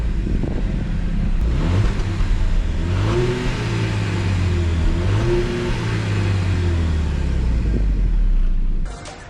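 A 2020 Jaguar F-Pace 2.5t with a turbocharged engine accelerates hard. Its engine and exhaust note climb through gears in rising sweeps with shift dips, heard close from inside the cabin and with no talking.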